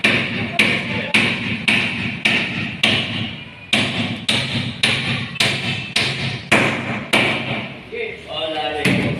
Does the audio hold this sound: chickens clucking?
no